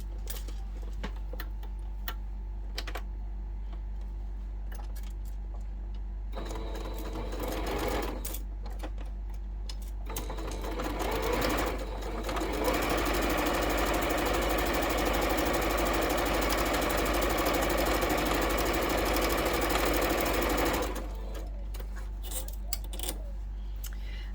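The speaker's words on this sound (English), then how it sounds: "let's head over to the sewing machine and stitch that down." Sewing machine stitching down quilt block strips for a nine patch chain block, a steady rapid mechanical whir in two bursts, short then long, with quiet ticking pauses between.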